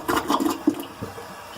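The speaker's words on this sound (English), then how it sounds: "we're going to want to flush the toilet and to get rid of as much water as possible" A toilet flushes up close, a brief rushing gurgle of draining water that quickly fades toward a quiet trickle.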